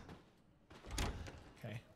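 A door opening in the horror video game Resident Evil Biohazard: a low, heavy thud and scrape with a rumbling swell, followed by a shorter bump, moderately quiet with faint voices around it.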